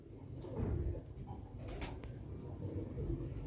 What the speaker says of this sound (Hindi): एक कहने बाल अच्छे कबूतर जी काले मूंह वाला